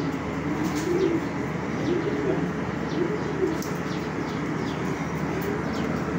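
Racing pigeons coo steadily inside a loft, their soft repeated calls layered with light chirps in a dense, continuous chorus close by.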